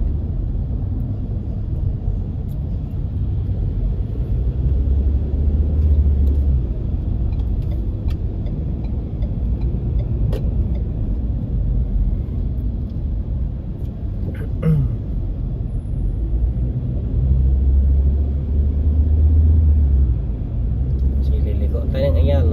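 Road traffic on the way from Madrigal Business Park to Makati rumbles steadily for the whole stretch, a dense, continuous low drone of cars with no break.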